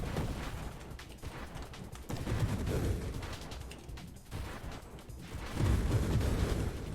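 Repeated explosions and blasts in the space shooter game Nova Drift, a dense stream of rumbling booms and crackling bursts with louder surges near the start, middle and end.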